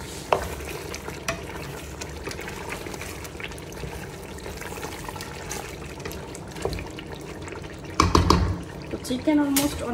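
Chicken fries in a pan for Old Dhaka-style tehari while a spoon stirs it. Close scraping strokes over a steady sizzle build to a louder burst of frying near the end.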